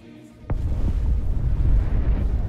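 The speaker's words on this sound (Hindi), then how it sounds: "आसमान में जब कोई पटाखे फूटते हैं" A sharp bang followed by a sustained loud rumbling roar, like a firework burst echoing outdoors.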